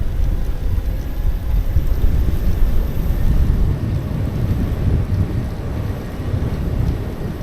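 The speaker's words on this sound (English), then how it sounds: "It's pretty windy today." Wind buffets the microphone while riding a Velotric T1 ST Plus e-bike outdoors at about 17 mph on a windy day, a loud, continuous low rumble that swells and dips throughout with no other clear sounds.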